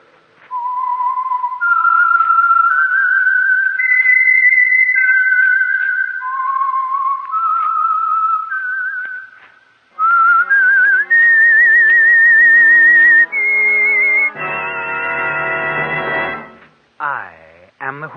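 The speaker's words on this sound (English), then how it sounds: "That whistle is your signal for the Signal Oil Program" A sustained whistled melody rises and falls as the signal theme for the Signal Oil Program, The Whistler, loud and alone, then shifts into a bright, buzzing orchestral-style passage before fading.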